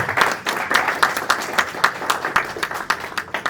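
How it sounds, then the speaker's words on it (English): Applause for contestants at a declamation contest: a smaller crowd claps in distinct, fairly even beats, moderately loud and near, continuing steadily for several seconds. "Please give a big round of applause for them."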